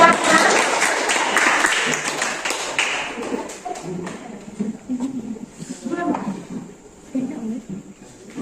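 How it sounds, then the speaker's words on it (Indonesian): Classroom audience clapping for a student group in a biotechnology lesson, a burst of applause that fades after about three seconds into voices and shuffling. "Ayo beri aplaus untuk kelompok Yohana."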